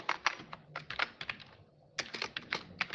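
Fast typing on a computer keyboard, with close, crisp key clicks in quick bursts that pause briefly before resuming.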